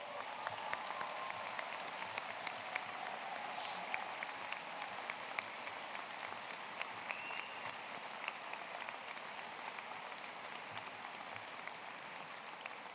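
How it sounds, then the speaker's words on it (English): At a high school graduation ceremony, a large audience applauds military members and veterans with steady, distant-sounding clapping that stays even and continuous from start to finish. "Let's give them a round of applause."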